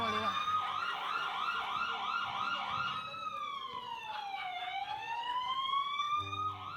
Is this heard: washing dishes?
no